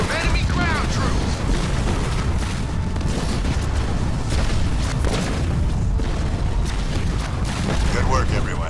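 Gunfire and explosions in a Halo Wars 2 battle, with Marines under fire from enemy ground troops: dense, continuous booms and rattling shots fill the whole stretch, loud and close, with voices shouting faintly within the din.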